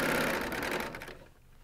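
A coverstitch serger runs at speed stitching off the edge of fabric, a steady close whirring chatter that slows and stops abruptly.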